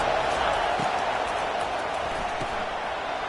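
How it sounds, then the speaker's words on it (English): A college football stadium crowd at a Florida vs Texas game roars steadily on a third down, a dense, loud wash of cheering that stays level throughout. "Big 3rd down as the crowd gets behind this defense."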